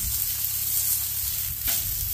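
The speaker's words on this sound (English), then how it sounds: "got that nice caramelization and rendering of that fat cap right there on our strip." A strip steak sears in rendered beef fat, giving a loud, continuous close-up sizzle with a brief flare of crackle near the end and no voices.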